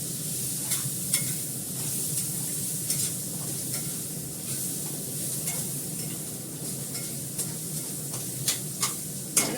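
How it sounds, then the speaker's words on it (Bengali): Bottle gourd peel frying in a pan, a steady close sizzle with small crackles and occasional louder pops and stirring clicks, continuous with no talking. "এই লাউ চোখলা ভাজাটা বসালাম"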